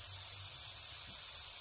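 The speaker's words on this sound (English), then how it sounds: "it sounds like my gun is sputtering" Spray paint gun hissing unevenly while painting a Suzuki Intruder motorcycle in an enclosed space, a steady close broadband spray with slight sputter.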